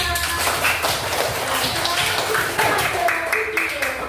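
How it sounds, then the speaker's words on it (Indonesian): A classroom of students claps together, quick uneven patters of hands heard close and continuous throughout, with voices talking over the applause. "tepuk tangan untuk kita semua"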